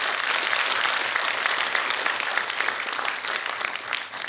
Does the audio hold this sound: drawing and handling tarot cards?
no